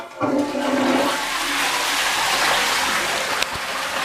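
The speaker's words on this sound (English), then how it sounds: "But check out this flush, it's very thorough." A hotel bathroom toilet flushes with a loud, sustained rush of water that surges quickly and keeps pouring strongly for several seconds, close up and with no voices.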